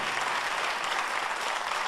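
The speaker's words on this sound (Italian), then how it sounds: "chiedo ancora un generoso applauso al grande pubblico di Mille Voci" An audience applauding at the Mille Voci music show, a dense steady burst of clapping from many hands, brief and fairly loud.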